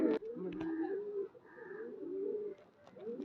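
Pigeons coo in low, rolling calls close by, several overlapping phrases repeating through the moment with short breaks, no talk over them.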